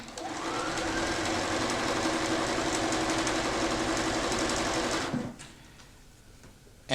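A sewing machine chain-pieces quilt blocks, running in a steady fast mechanical whir for about five seconds before stopping abruptly, leaving quiet room tone and a final click.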